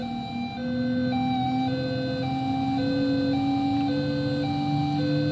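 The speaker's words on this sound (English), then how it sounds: "Look at that siren sound! It looks like an ambulance" A steady wailing ambulance siren from a BeamNG.drive crash-test session with a Lada Priora, loud and continuous with a regular alternating two-tone pattern, no voices over it.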